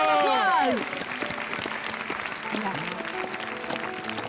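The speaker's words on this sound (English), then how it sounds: "so give him a big round of applause" An audience applauds after the last performance at a grand finale show, with sustained crowd clapping; a voice or tonal sound fades out at the start, then steady applause carries through.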